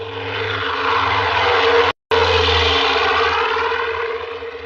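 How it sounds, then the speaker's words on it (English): A propeller airplane bound for Lisbon drones steadily overhead, a loud, continuous engine roar broken by a very short cut partway through. "The plane to Lisbon."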